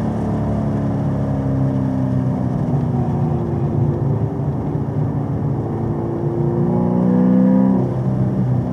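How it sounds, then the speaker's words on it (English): A Chevrolet Camaro ZL1 1LE runs on a track at a steady, loud drone with fuel-system trouble, its engine note rising and shifting slightly near the end, with no speech over it. "I was giving a gas when it started to sputter."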